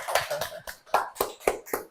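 A small podcast audience claps for a guest in a short series of sharp, evenly spaced claps, fairly close and with no talking.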